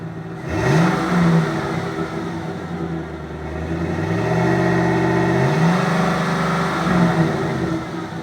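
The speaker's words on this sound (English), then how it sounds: "pretty much what you'd expect from a stock exhaust system." A Chevy Silverado 1500 on its stock exhaust idles with a steady, smooth drone and revs up several times, each rev rising and falling back to idle, close and moderately loud with no voices.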